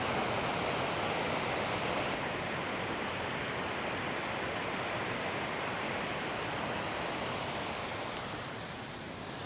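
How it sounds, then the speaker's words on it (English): Steady roar of a waterfall on the Niobrara River in Nebraska, a dense, continuous rush of falling water at close range that holds unbroken throughout, with no voices over it. "that's our last waterfall of this video"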